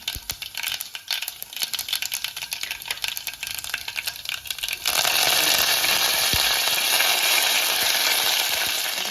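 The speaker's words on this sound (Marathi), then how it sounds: "फोडणी अशी मस्त कडकडीत अशी आली पाहिजे, अशी कडकडीत द्यायची" Mustard seeds crackle in hot coconut oil, a dense, rapid patter of close pops for several seconds that gives way to a loud, steady hiss of frying.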